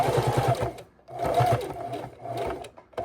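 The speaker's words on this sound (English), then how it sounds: "So now I'm going to sew up just 1 or 2 stitches on this side" Sewing machine stitching quilt binding, close and steady: a rapid mechanical whirr in three short bursts separated by brief pauses, with no talking.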